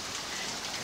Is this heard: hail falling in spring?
yes